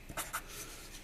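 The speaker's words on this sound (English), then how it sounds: "I'm going to draw out on a piece of paper here." A Sharpie marker squeaks across paper in a few quick strokes, two short scratchy squeals close by followed by a softer drag, with no talking.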